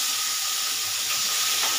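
Chopped tomato dropped into a hot frying pan for an aubergine curry sets off a steady, close, bright hiss of sizzling oil.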